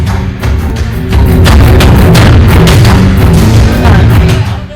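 A loud, sustained boom of a planted bomb going off in a stage drama, a deep rumbling blast that swells and holds for several seconds at close range.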